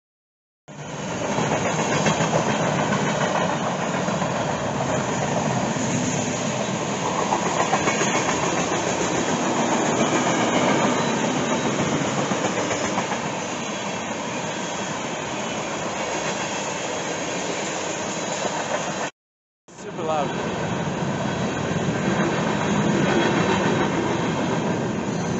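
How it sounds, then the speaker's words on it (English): A train rolls past on a nearby track at night, a loud, steady rumble and rattle of railcars filling the whole stretch, with a brief cut near the end before the noise resumes. "It's coming through. It's gonna get loud."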